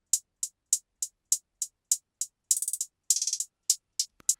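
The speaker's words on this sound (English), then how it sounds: "just an old hi-hat, nothing special, and use this pattern here" An old hi-hat sample triggered from a sampler in an R&B beat plays a crisp, steady pattern of short ticks, broken by two quick fluttering rolls, alone and fairly quiet.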